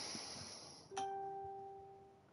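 A phone notification chime sounds once with a sharp ding and then rings out in a clear, fading tone, coming after a stretch of quiet background hiss.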